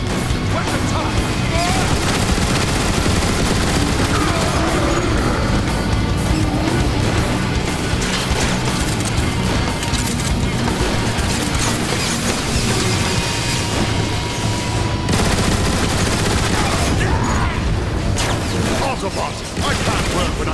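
Dense, continuous gunfire and crashing battle noise from Transformers: War for Cybertron, loud and unbroken throughout, with a speaking voice mixed into the chaos.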